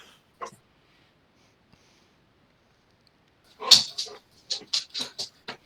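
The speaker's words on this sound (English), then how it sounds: "the fucking dog wants to play" A dog eager to play makes a brief soft whimper, then after a pause a cluster of high, close yips and whiny snorts in quick succession.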